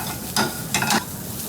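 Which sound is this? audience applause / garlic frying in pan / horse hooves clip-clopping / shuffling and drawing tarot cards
garlic frying in pan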